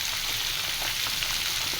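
Mango pieces for pickle fry in hot oil in a wok, giving a steady, dense crackling sizzle that stays even and close throughout, with no voices.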